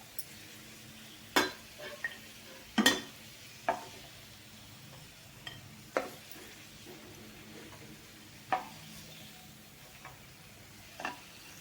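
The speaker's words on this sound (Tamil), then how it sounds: "ரவையோட மணம் வர வரைக்கும் ரவையை நல்லா வறுத்துக்கோங்க." Semolina (rava) being dry-roasted in a pan for rava laddu, with a low steady sizzle broken by scattered clinks and scrapes of a spoon stirring against the pan, no talking.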